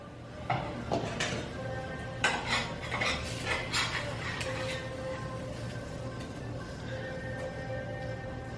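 A knife clinks against a plate and dish while halving a boiled egg for avocado toast, several sharp close clatters and taps early, then quieter kitchen handling with no talk.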